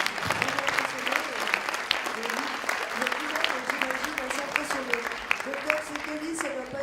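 A conference audience in Monaco applauding, sustained dense clapping from a large crowd that fills the room steadily throughout, with a voice speaking over it at times.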